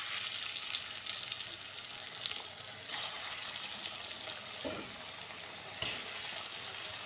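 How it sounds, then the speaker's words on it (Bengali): Pieces of chana dal dhoka fry in hot mustard oil in a kadai, producing a constant hissing sizzle with a few soft clatters as pieces are added or moved. "সর্ষের তেলটা গরম হয়ে গেছে, এবার আমি ধোকার পিসগুলো দিয়ে দেব।"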